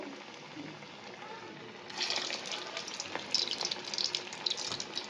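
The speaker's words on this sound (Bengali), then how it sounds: "আমি এবার এক এক করে ছাড়বো পকোড়াগুলো" Bread pakoras slid one at a time into a small pan of hot oil, a soft background hiss jumping to a steady, bright crackling sizzle partway through, close and continuous.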